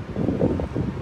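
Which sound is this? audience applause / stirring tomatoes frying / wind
wind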